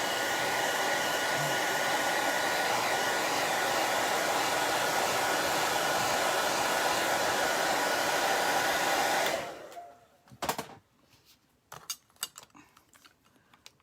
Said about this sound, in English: I just want to dry this one with a hairdryer